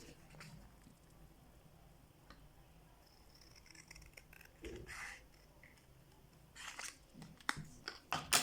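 Sandal material being trimmed with scissors for handmade wavy women's slippers: soft, close snips and rustles come quietly and irregularly, a few louder cuts near the end.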